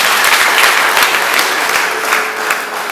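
A church congregation applauding for God: dense, loud, sustained clapping from many hands, continuing steadily throughout.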